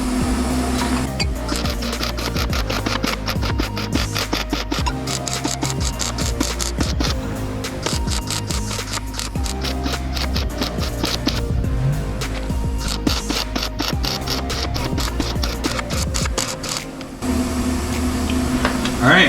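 A spring mount is welded onto the rear end of a 1981 Monte Carlo, with a loud, close, continuous crackling buzz that runs almost unbroken for nearly twenty seconds and has a short dip near the end.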